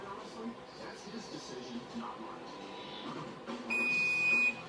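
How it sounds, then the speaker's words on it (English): A kitchen timer goes off during home brewing of a Coopers IPA, a steady high electronic beep that starts near the end and continues over kitchen background noise. "timer's going to go off any second now"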